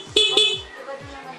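Two short, bright horn beeps in quick succession from a Honda XRM125 motorcycle, close by, followed by a fading tonal tail.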